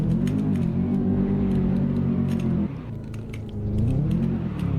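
A Mazda RX7 on snow tires revs hard and holds a high engine drone as it breaks traction on snow, dipping briefly before the engine climbs again, loud and close.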